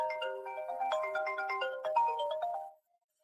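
A melodic phone ringtone plays for an incoming call, a bright tinkling tune of quick repeating notes, clear and alone, stopping abruptly near the end.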